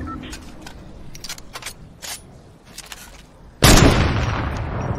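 Gunfire in an online shooter video game: scattered sharp clicks and faint reports, then a sudden loud blast that decays into a sustained roar over the last second or so.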